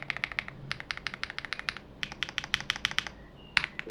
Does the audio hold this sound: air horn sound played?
no